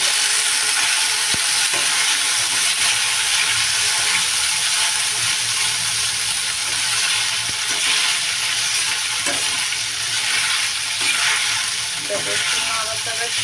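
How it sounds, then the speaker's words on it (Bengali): Macaroni fries in a little oil in a pan, with a continuous sizzle and occasional clicks and scrapes of stirring. "একদমই সামান্য তেল দিয়ে দিলাম আর দিয়ে দেবো এবার ম্যাকারনি"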